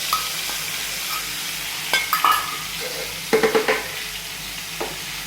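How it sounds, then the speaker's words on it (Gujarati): A spoon stirs spiced yogurt in a sizzling cooking pan, soft frying hiss underneath with a few sharp clinks of metal against the pan. "દહીં નાખી થોડીક વાર સતત હલાવતા રહીએ"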